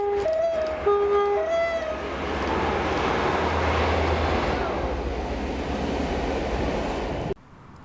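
Class 57 locomotive 57301 running light through Johnstone station in Scotland, a loud steady rail rumble with two-tone horn blasts at the start, engine roar and wheel noise building, then cutting off abruptly near the end.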